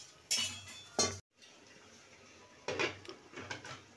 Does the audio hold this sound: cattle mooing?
no